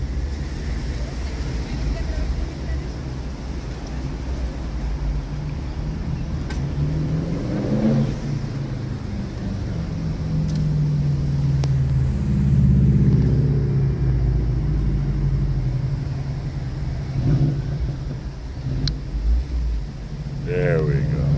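Inside a vehicle stuck in Hawaiian traffic, a steady low engine and road rumble runs throughout, swelling gently at times, with a person talking over it.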